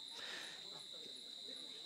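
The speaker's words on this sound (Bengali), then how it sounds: "চারিদিকে ঝিঝি পোকার ডাক" Crickets chirp in a dark jungle at night beside a riverside embankment, a steady high-pitched trill that runs continuously and fairly faint, with soft murmuring voices beneath.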